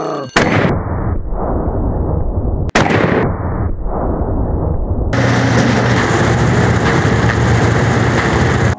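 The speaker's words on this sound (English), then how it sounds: "up next I'm gonna shoot some cabbages, but I'm gonna try to shoot them out of the air" A massive 10 gauge coach shotgun fires at cabbages tossed in the air, with two loud, close blasts that each ring out and decay, followed by a sustained heavy roar.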